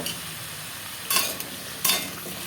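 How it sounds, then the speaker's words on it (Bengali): Pumpkin pieces with turmeric fry in a wok under a soft continuous sizzle, as two sharp bursts of spatula stirring scrape close by, with no talking. "কুমড়োগুলো আমি দিয়ে দিলাম কড়ার মধ্যে এবার এটাকে একটু নেড়ে ভেজে নেব"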